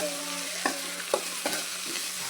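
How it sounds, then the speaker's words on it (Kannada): Onion and tomato fry in hot oil for rava upma, with a constant close sizzle punctuated by a few distinct spoon scrapes against the pan and no talking. "ನಾನು ಎಣ್ಣೆಯಲ್ಲಿ ಹಾಕಿ ಡ್ರೈ ಮಾಡ್ತಿದ್ದೀನಿ"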